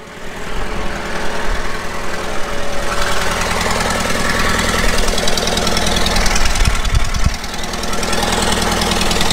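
An old backhoe's diesel engine idles steadily and close, with a continuous knocking chug that runs without pause and shows no change in speed.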